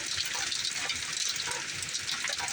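Heavy rain pours down a window during a thunderstorm, a steady, dense hiss of water running and splashing without letup, close and fairly loud.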